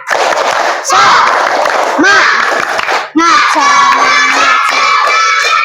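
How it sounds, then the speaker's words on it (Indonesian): A classroom of students performs a rhythmic clapping chant, loud bursts of hand claps and shouted group voices filling the room continuously, with a brief pause before the chant resumes. "Agar lebih semangat, kita tepuk semangat dulu ya. Tepuk semangat."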